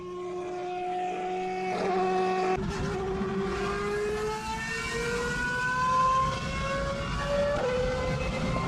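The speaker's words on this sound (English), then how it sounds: "Dude, that's an F1 engine." A Formula 1 engine revs in a long, high-pitched whine that climbs steadily in pitch as it accelerates, loud and continuous for several seconds, with no voices over it.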